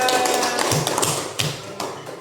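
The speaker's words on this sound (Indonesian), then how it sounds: "Oke, sekali lagi tepuk tangan." A group of schoolchildren claps hands together in a classroom, a crisp burst of rapid, uneven slaps up close that thins toward the end.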